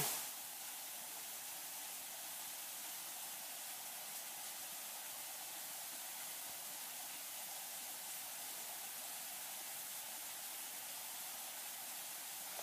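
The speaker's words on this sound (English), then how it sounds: "I'll just be quiet for a minute so you can hear the water flowing" Water flows steadily in a small valley stream, a faint, even hiss that continues unbroken with no talking.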